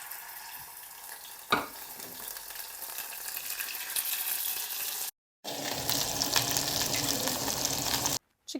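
Two chicken leg pieces fry in oil in a pan with a continuous crackling sizzle and a sharp knock near the start, plus two brief drops to silence.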